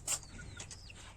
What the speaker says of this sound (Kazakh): Мінекей балапан әтеш